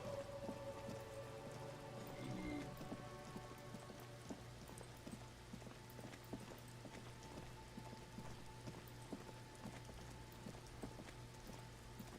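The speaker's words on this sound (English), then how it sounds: "It's getting late, and it's raining." Steady rain falls in the video game Disco Elysium, a constant even patter and hiss that continues alone over a low ambient hum.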